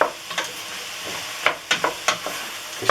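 Onion, bell peppers and carrot sizzle in a frying pan, a constant hiss punctuated by repeated sharp scrapes and clacks of stirring, close and fairly loud, no voices.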